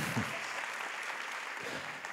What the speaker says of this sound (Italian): E fatelo un applauso Angelo Orlando che se lo merita